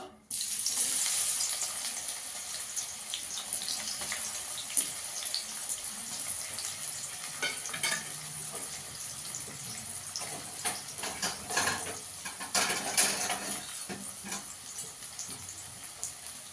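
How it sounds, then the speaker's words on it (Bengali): Onions frying in hot oil in a wok make a continuous close sizzling hiss that crackles and pops irregularly throughout, with no talking. "কড়াইতে তেল দিয়ে দিয়েছি, এবার পেঁয়াজটা ভেজে নেবো।"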